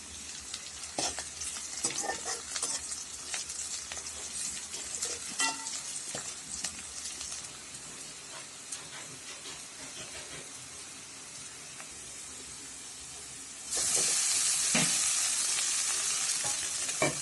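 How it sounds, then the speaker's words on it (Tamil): Onions sautéing in a pan for a ragi breakfast dish, a steady sizzle with scattered crackles and spatula scrapes, growing louder and hissier toward the end. "வெங்காயம் நல்லா வதங்கிடுச்சு."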